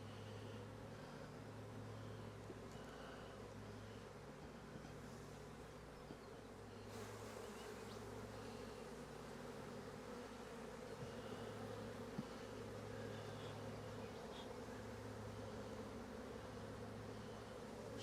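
Honeybees swarm around an opened hive in an apiary, a dense, continuous buzzing drone from many insects close by, rising and falling slightly in pitch as individual bees pass near.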